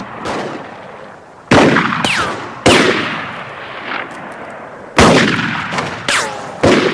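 Gunshots ring out in a western TV show, several sharp, loud blasts arriving singly and in quick pairs, each followed by a ringing echo tail, with shorter gaps toward the end.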